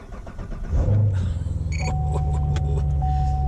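A new Corvette engine cranks and fires, a short churning crank that catches into a loud throaty rumble and settles into a steady idle with a faint chime tone, with no talk.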